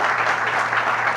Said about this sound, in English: Please clap for that. Please clap for that.